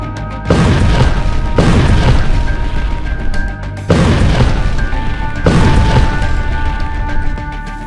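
Heavy booming explosions from tank combat in Gaza, two long loud blasts each followed by sustained rumbling roar, dense and close with no speech.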